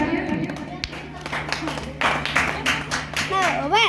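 An audience at a school award ceremony claps for a third-place winner, scattered hand claps rising over a steady hum while people talk nearby.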